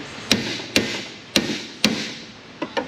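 Hammer tapping the metal sleeve of a car suspension bushing in a damaged subframe, six sharp, close metallic knocks at uneven intervals, the last two lighter.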